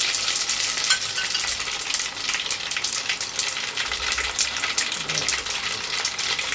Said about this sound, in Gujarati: દાળ વઘારવાની પ્રોસેસ ચાલે. પેલા જાય છે રાયું ને જીરું